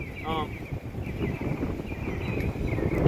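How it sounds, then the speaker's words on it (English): Outdoor wind gusting into the microphone, a steady broadband rumble and buffeting that persists throughout, fairly loud, with a faint brief tonal squeak near the start. "Wait for the wind to die down for a second."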